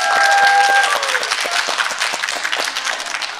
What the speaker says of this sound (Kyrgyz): зал өзгөчө кол чаап коюңуздарчы